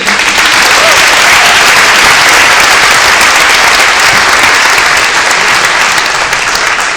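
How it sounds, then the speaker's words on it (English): A crowd at a talk given by Palestinian doctors back from Gaza breaks into loud, sustained applause for Spain, the clapping dense and unbroken for the whole stretch. "we should have a round of applause for Spain"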